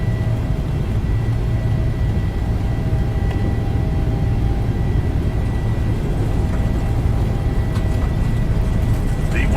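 Loud, steady engine rumble of a PMDG 737-900 airliner on its takeoff roll in a flight simulator game, a continuous low roar with a faint whine above it that holds throughout.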